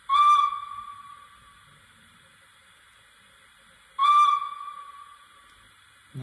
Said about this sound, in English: And this is short whistle.